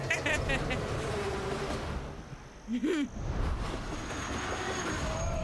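Train riding on rails, a steady loud rumble of wheels and carriage noise with a brief squealing whine in the middle and faint voices underneath.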